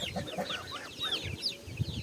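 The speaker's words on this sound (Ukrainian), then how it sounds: "Три чубатих курки сірих." Crested grey hens cluck softly and repeatedly at close range as they feed on zucchini, cheese and cracked grain, with some higher chirping notes mixed in.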